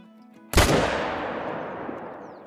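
A single sharp, loud rifle shot at a stag in the hunting game Call of the Wild, cracking suddenly after a quiet moment and rolling into a long, fading echo.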